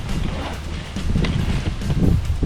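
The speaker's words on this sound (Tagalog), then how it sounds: "Sarap ng hangin guys." Wind gusts across an exposed mountain trail on Mt Arayat, buffeting the microphone in a steady rushing roar that swells louder toward the end.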